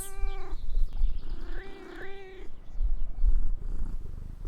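A cat sound effect: two drawn-out meows, close and clear, the second more wavering, followed by a low, steady purring rumble that carries on to the end.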